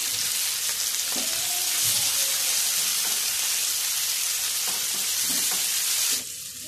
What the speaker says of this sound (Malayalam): അപ്പോൾ 2 വശവും മീൻ പൊരിഞ്ഞു വന്നിട്ടുണ്ട്.